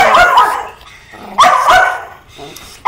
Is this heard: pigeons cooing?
no